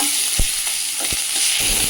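Tomato fries in a pan for a light fish curry, a loud steady sizzle with a few brief thumps of stirring, close up and without speech.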